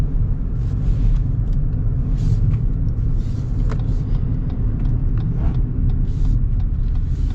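Steady, loud road and engine rumble from inside a 2025 Lexus NX 250 on the move, a constant low drone with tire noise and small bumps, no talk over it.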